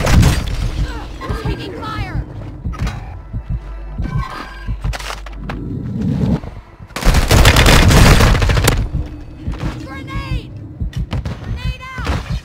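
Gunfire in the video game Warzone 2, with bursts of rapid automatic shots and sharp single cracks spread across the clip, loudest in a heavy volley midway, mixed with in-game voices and effects.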